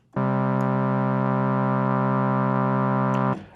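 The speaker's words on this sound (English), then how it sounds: "Here's our resonant peak." A steady, buzzy tone from the GForce Oberheim OB-X synth plugin holds at one pitch for about three seconds, a bright resonant filter peak at the cutoff, then cuts off abruptly.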